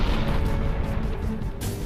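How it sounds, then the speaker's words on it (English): Deep, sustained rumbling blast of a supernova explosion effect, a loud continuous low roar with crackling texture that holds steady and swells slightly near the end, with no voices. "a star blows itself to smithereens in some of the most enormous explosions ever witnessed"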